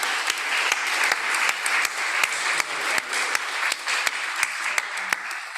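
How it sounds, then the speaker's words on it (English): An audience claps for the speakers at the close of a side event on food, biodiversity and climate goals. The applause is steady and dense, with sharp individual claps throughout, and carries on evenly from start to finish. "ask for a big round of applause for the wonderful speakers"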